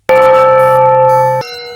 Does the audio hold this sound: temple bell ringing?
yes